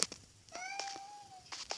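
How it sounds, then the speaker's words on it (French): A house cat gives one clear, drawn-out meow of about a second, fairly faint and close in a quiet room, with a few light clicks around it and no talk. "Excusez-moi pour mon chat qui miaule depuis tout à l'heure"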